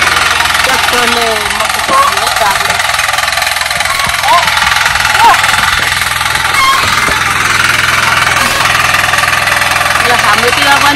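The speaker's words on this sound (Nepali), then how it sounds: "यसरी ट्र्याक्टरले जोतेर मकै छर्यो" A tractor ploughs a field for maize sowing in a Nepali village, its engine a loud, steady knocking drone that runs throughout, with people talking over it.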